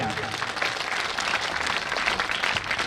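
Loud, steady audience applause at a school annual function and donor-honouring ceremony in Rajasthan, a dense wash of clapping that fills the whole stretch without a break.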